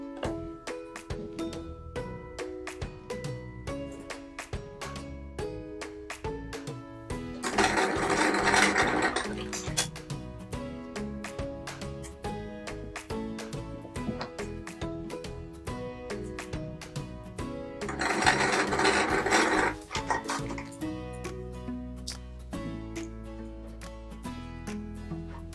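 A sewing machine stitches patchwork quilt squares into a band, rapid rhythmic needle chatter with two louder fast runs and short pauses between.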